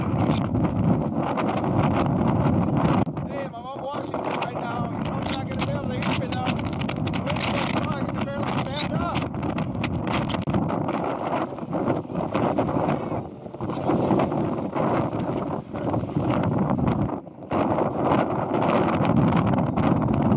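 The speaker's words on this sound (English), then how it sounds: "Very windy, of course. This is the windiest part of the country." Strong wind on the summit of Mount Washington roars steadily into the microphone, a loud continuous buffeting rumble with brief dips, while a person talks over it.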